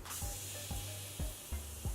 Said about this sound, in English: I'm gonna use my Morphe Continuous Setting Mist.